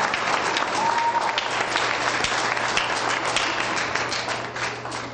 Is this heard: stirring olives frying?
no